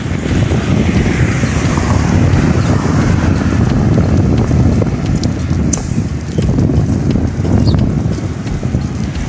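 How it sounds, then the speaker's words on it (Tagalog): Steady wind buffets the microphone with a low, rumbling roar, gusting slightly over its length with no talking. "Oh, sarap ng hangin."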